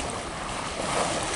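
Steady water and wind noise along the riverside promenade by the Uruguay River, a continuous broadband rush with gusts buffeting the microphone and no talk.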